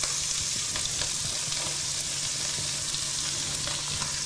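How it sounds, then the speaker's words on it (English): Holy trinity vegetables sautéing in plenty of hot oil in a pan for duck andouille gumbo, a steady close sizzle with small crackles throughout. "Let's go ahead and start sautéing this off."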